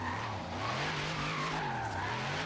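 A Dodge Dart rat rod drifting in Forza Horizon 3, its tires skidding in a continuous loud squeal over a wavering engine drone, close and sustained throughout.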